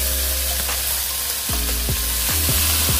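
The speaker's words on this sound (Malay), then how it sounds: "Masukkan ayam yang telah diperap apabila minyak sudah panas." Marinated chicken sizzles and crackles loudly in hot oil, a steady frying hiss with occasional clanks of a utensil stirring the pan.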